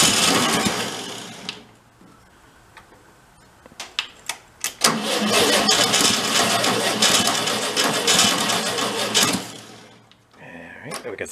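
An antique tractor engine sputters and coughs, firing in uneven bursts before catching and running loudly and roughly for several seconds, then dying away; people talk at the start and end.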